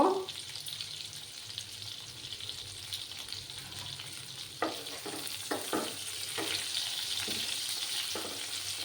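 Eggplant pieces frying on high heat in a pan, a constant soft sizzle with a row of sharp utensil clicks and scrapes in the second half, near and without talk.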